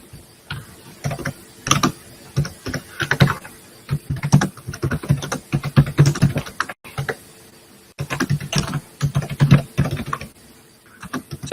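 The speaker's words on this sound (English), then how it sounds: "I don't see who's typing." Rapid, irregular clatter of typing on a computer keyboard, bursts of close keystrokes broken by short pauses, heard alone without speech.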